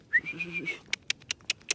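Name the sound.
person imitating a whistle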